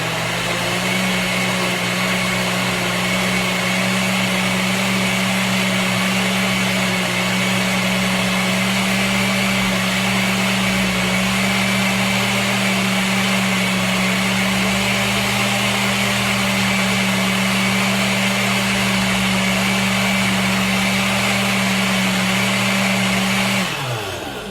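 Kitchen blender whirring steadily as it mixes coconut milk with chocolate, a loud, constant motor drone that runs for the whole stretch before spinning down abruptly at the end.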